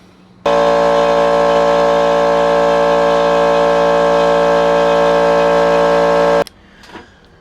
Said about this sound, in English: I want to turn the camera off so I can pressurize my compressor down here